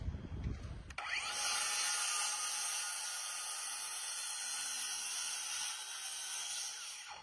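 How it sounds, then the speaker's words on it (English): Drill boring into wood, starting after a brief knock and then running as a steady high-pitched whine with grinding friction, fairly close and continuous for several seconds without speech. "This is ready to drill."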